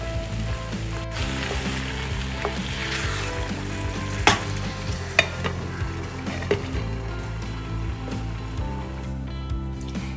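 Pav bhaji vegetables cook in a pan over a medium flame, giving a steady low sizzle with a few sharp utensil clinks over a constant humming tonal background.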